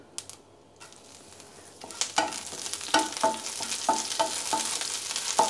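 Curry leaves and dried red chillies hit hot oil over a low flame for a kappa meen dum biriyani, bursting into crackling sizzle after a quiet start, with sharp pops and spoon scrapes repeating steadily.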